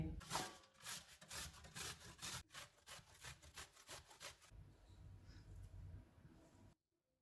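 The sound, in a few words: grating radish and onion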